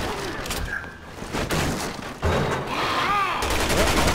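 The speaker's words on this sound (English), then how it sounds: "they're shooting at me." Enemy gunfire in the video game Resident Evil 6, with scattered shots and bursts of rapid fire cracking through an intense action scene, loud and dense toward the end.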